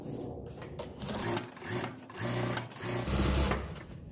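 Sewing machine stitching coat fabric, a close rhythmic whirring rattle in several short runs separated by brief pauses.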